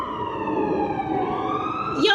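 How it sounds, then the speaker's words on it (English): Emergency vehicle siren wailing at moderate distance, its pitch sweeping steadily and then rising sharply near the end, with a voice speaking faintly over it. "Sirens going off."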